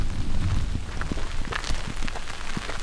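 Heavy rain pounds steadily on a tarp roof tent, a dense, loud hiss with scattered sharper drops and a low rumbling drum underneath throughout.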